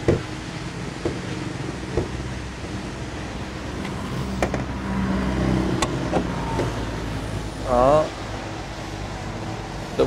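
Idling engine of a used Mercedes-Benz C250 with a 2.5-litre motor, a steady low hum heard near the open engine bay, with a few clicks and a brief higher whine, while someone talks over it.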